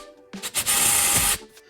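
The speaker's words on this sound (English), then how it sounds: "now I'm gonna drill some pilot holes for those lag bolts" A power drill bores pilot holes for lag bolts into painted 3/4 inch plywood backer board, one close whirring burst of about a second with short spin-ups around it.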